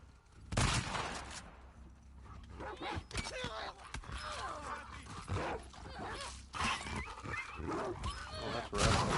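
Gunfire and a dog's barks and whimpers mix in a chaotic fight from the video game The Last of Us Part II, with sharp bursts spread over several seconds amid background clatter.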